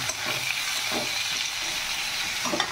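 Onions frying in a pan for mutton curry, a steady close sizzle and hiss with occasional stirring scrapes, continuous and fairly loud with no talking.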